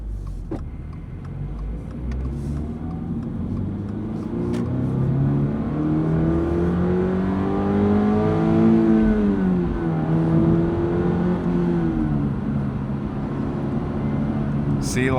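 A Toyota GR86 engine accelerates from inside the car, its tone climbing and falling through the gears in a steady rising drone that fills the cabin, with a person talking over it.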